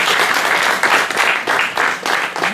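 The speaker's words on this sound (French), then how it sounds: "je voulais qu'on l'applaudisse aussi" Audience applause for Étienne at a political meeting on health in Les Mureaux, dense steady clapping from a crowd throughout, loud and close.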